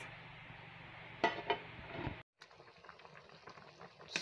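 Catfish and yam pepper soup bubbling steadily in a pot, a continuous close hiss with a couple of sharp clatters partway through, a brief drop to near silence, then a softer simmer.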